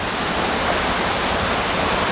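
A river flows steadily at Assin Manso slave river park in Ghana, a continuous even rush of water with no other sounds standing out.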